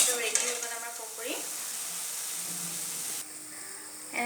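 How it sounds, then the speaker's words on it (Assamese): Pakoras made with bhedailota leaves frying in hot oil over medium heat, a soft continuous sizzle with brief stirring scrapes. "পকৰিখিনি ক্ৰিস্পি অকমান ব্ৰাউন হোৱালৈকে ভাজি ললো"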